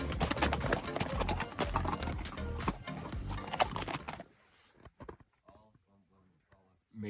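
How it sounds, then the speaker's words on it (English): Mules walk a dirt trail in the Grand Canyon, their hooves clip-clopping under loud, busy talk and movement, then sparse hoof clops and a few voices in a quieter stretch. "Something to consider is the mules."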